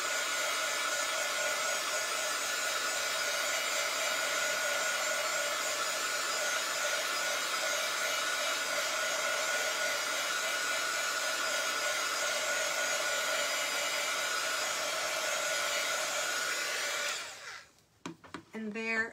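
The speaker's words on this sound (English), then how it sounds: "we're going to take our dryer, and again, you can use a hair dryer" A hair dryer blows steadily at close range to dry paint on a buffalo plaid heart door hanger, a constant whirring drone for about seventeen seconds before it switches off and handling noises follow.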